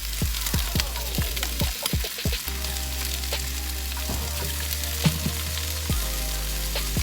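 Shrimp and broccoli sizzle in a stir-fry pan, a steady close frying hiss broken by sharp clicks and scrapes of a utensil stirring, with no voices.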